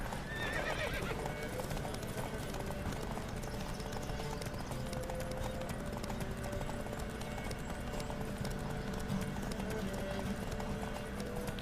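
Horses gallop hard in a race in the video game The Witcher 3, with fast continuous hoofbeats, whinnying and a steady rush of motion throughout, and only faint voices.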